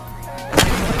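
One sharp gunshot from the film The House That Jack Built cracks out mid-clip, loud and close, trailing a short rumbling decay over a low background.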